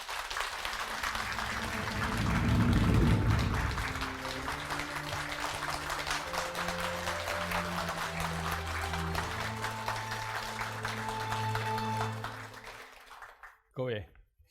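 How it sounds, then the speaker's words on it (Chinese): Applause from the audience at a calligraphy lecture greets the arriving lecturer, a dense clapping swell that peaks early and then fades beneath background music before a brief bump near the end. "接下来让我们大家用热烈的掌声有请"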